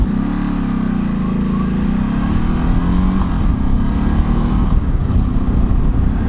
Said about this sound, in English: The engine's quite like tappy sound wise.